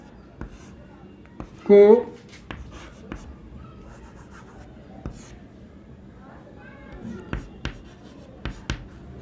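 Chalk or marker tapping and scratching on a board during a chemistry lesson on compounds, a series of short, sharp strokes and taps scattered through the clip, close and fairly quiet, with a brief louder scrape near the start.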